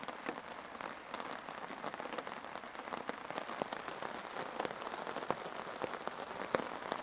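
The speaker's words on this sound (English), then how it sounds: "This is a nice amount of rain." Rain falls on a camping tent and tarp in a steady patter of dense, close drops with sharper individual taps scattered throughout.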